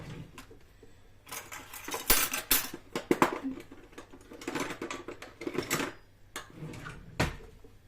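A spoon clinks and rattles among cutlery and dishes in a home kitchen, with scattered light metallic taps and clatters, close and fairly quiet.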